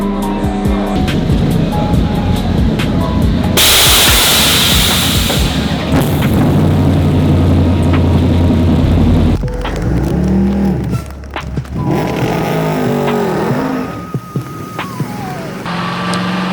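GT4 race car rolling out onto the Spa-Francorchamps circuit in the rain, a loud onboard engine drone with gear changes and shifting pitch, spray hiss and a few clunks, no talking.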